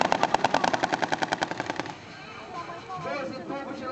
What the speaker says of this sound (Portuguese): O M60 é dotado de uma metralhadora coaxial